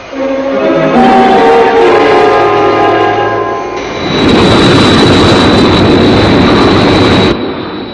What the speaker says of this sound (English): Captain Scarlet and Captain Blue have taken the controls, but the jet is not responding